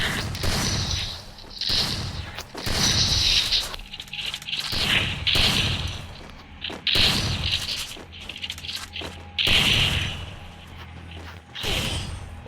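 Free Fire gunfire comes in repeated bursts of loud shots and rattling mechanical clatter, spaced by short gaps, under game effects with some talk.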